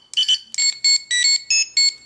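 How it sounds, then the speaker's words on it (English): A Mighty Morphin Power Rangers Legacy Communicator toy plays its electronic beep, a loud, close run of seven rapid pulsed chirps with bright synthetic tones, alone in silence. "if I only want the communicator beep to play"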